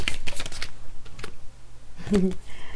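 A tarot card is drawn from a deck with quick papery flicks and shuffling riffles, close up, alongside a speaking voice and a brief soft knock near the end.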